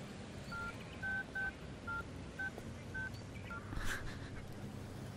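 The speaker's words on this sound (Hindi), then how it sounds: "लक्ष्मी को फोन कर रहा है।" A series of short telephone keypad tones beeps in an uneven rhythm, about eight presses, faint over a low background hum.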